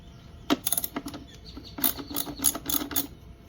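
A ratchet wrench loosens a battery terminal nut on a 12V inverter setup. Quick bursts of close metallic clicks come in uneven groups with short pauses between them, and no one speaks.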